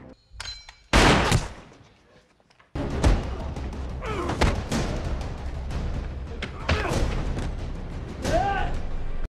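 Sharp, loud gunshots burst out amid film sound and speech in the 2021 film The Marksman, a heavy thud early, then several impacts scattered through the busy scene.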